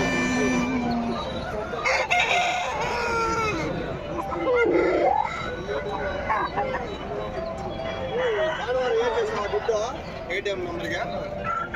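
A Parrot Beak Aseel rooster crows a few times amid busy outdoor chatter at a rooster market, with voices of several people talking over it and other birds clucking nearby.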